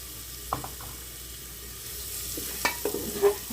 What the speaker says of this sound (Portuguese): Ó, dando uma douradinha assim na cebola, aí eu já vou acrescentando o alho.